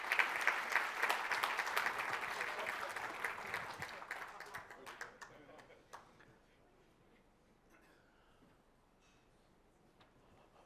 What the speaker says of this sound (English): a round of applause for the Minister and Roger Massey-Green